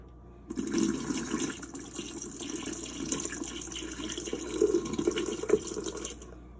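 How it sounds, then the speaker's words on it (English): Water pours steadily from a container for several seconds, a splashing, gurgling stream that swells and tapers off before stopping. "All right, I'm going to pour again."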